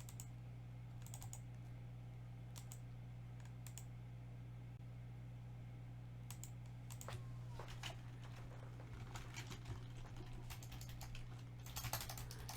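Typing on a computer keyboard at a trading desk: sparse, faint clusters of key clicks over a steady low electrical hum, growing into a quicker burst of keystrokes near the end.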